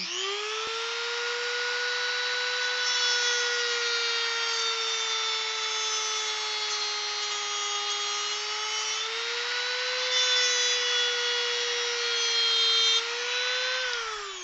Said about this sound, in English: my Dremel does not like going through it